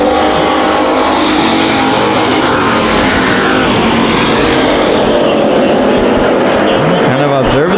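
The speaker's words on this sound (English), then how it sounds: "Looking to the inside of the 5 machine of Nolan, and Brough takes the lead" Race cars speeding around an oval track, a loud sustained engine roar with a car passing close near the end, pitch sweeping down as it goes by.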